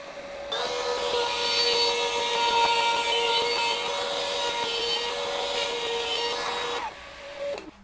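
A FLEX 24V cordless trim router cuts along a wood edge, a loud steady high-pitched whine with a grinding cutting rasp, starting abruptly and running for several seconds before spinning down.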